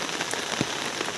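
Rain in Dharmapuri patters onto surfaces around an umbrella in a steady, close hiss scattered with small drop ticks, with no voices.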